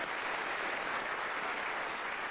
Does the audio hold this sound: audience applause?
yes